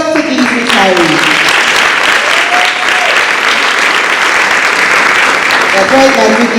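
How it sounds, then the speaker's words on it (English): A large audience at a high school educator-of-the-year ceremony applauds retirees, with steady, dense, loud clapping lasting several seconds and a few voices and cheers mixed in. "provide a round of applause to these retirees"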